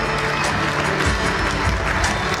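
A concert audience claps together in a dense, continuous wash of applause with a crowd murmur beneath it, loud and sustained throughout.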